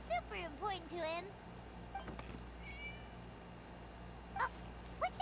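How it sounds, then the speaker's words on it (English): Meows from a cat in the Genshin Impact video game, two or three drawn-out wavering meows close by at the start, then quieter clicks and faint cries over low background ambience. "It was just a cat."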